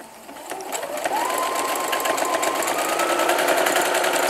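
A sewing machine stitching a decorative seam with a swinging needle on a patchwork pouch, its motor whirring rapidly and evenly up close, rising slightly in speed and holding a steady mechanical drone without speech.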